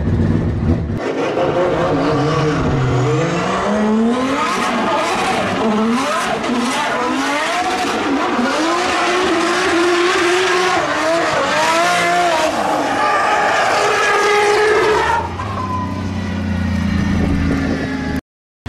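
Drift car with a 2JZ engine in a Nissan S15 chassis during competition testing on a track, a loud engine howling and revving through gear changes with sustained tire squeal and skidding, near and continuous before cutting off abruptly.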